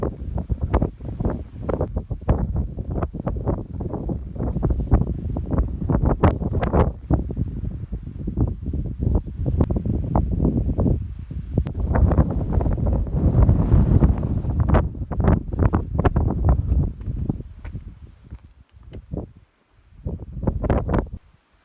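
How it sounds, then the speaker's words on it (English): Strong, steady wind roars and buffets the microphone without pause on an exposed New Hampshire mountain ridge near the Maine border, on the Appalachian Trail; gusts swell and ease, with a brief lull near the end. "Wind's picking up."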